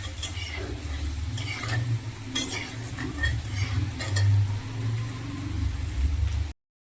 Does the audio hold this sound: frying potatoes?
yes